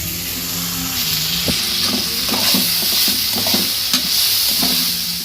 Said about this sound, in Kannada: ಅವಲಕ್ಕಿ ಬಿಟ್ಟಿಗೆ ಒಗ್ಗರಣೆ ಹಾಕಿದ್ದೀನಿ.